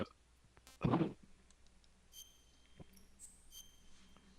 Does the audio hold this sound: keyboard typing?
yes